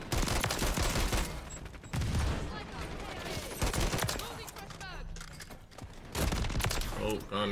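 Shotguns fire repeatedly in a Call of Duty MW3 match, loud bursts and fusillades echoing close by, with a player talking over the gunfire.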